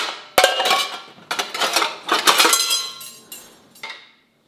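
Metal kitchen tongs clink and clatter as they are pulled out among other utensils: a quick run of bright, ringing metallic knocks of uneven rhythm, close by, fading near the end.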